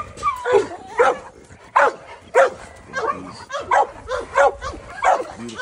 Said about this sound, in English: Beautiful dogs out here, beautiful American Bulldogs, Brother Jack's Bulldogs.